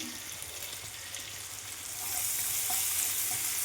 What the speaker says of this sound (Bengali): কাঁচা লঙ্কাটা হালকা ভাজা হোক এক চামচ রসুন বাটা এটা আমি দিয়ে দিলাম